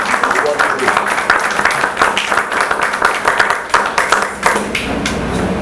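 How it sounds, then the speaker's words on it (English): An audience at a literary gathering claps in a lively, uneven burst, close and fairly loud, with voices mixed in over the clapping. "Let me give you first of all a round of applause."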